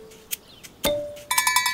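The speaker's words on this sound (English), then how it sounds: "That's the sound of your bell!" A cartoon bell rings as a quick run of bright, repeated chimes near the end, preceded by a few short tonal blips and knocks, clear and close with no speech.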